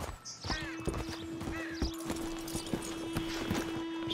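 Horse hooves clip-clop in a steady walking rhythm in Red Dead Redemption 2, close and clear, over a constant low game hum and faint background sounds.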